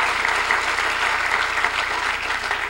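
An audience bursts into dense, sustained applause honoring the Cambridge Rindge and Latin school community, a full, even roar of clapping with no voices over it.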